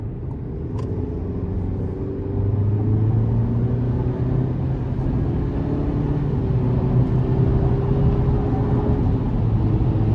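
A 2023 GMC Canyon Elevation 4WD pickup with its 2.7-liter turbocharged four-cylinder and 8-speed automatic pulls under light throttle, heard from inside the cab as a steady low engine drone that swells slightly and holds over road rumble.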